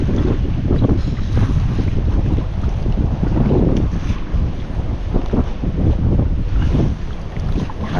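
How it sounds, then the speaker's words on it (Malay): Strong wind buffeting a small fishing boat at sea off Bagan Lalang beach, a loud continuous roar with gusty rumble and waves beneath, close to the microphone. "Nampaknya dah angin dah kuat dia."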